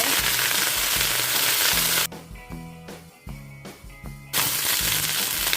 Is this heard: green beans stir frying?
yes